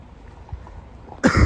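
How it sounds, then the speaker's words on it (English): A single sharp cough bursts out near the end after near silence, close and fairly loud, at a cold outdoor railway station platform. "Excuse my cough."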